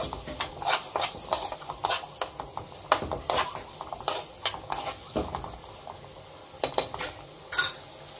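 Egg roll curry ingredients frying in an oiled pan, a low sizzle under frequent sharp scraping strokes of a spoon against the pan, close and busy throughout, no voices.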